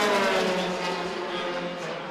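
A Lamborghini Super Trofeo race car at The Bend Motorsport Park, its engine holding a strong tonal drone on the main straight that eases slightly as it passes, moderately loud and somewhat distant.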